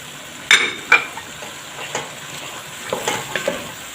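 Onions and diced carrots stirred in a pan, a soft sizzle with a couple of sharper scrapes of the utensil early on and lighter stirring taps after, close and steady with no talk.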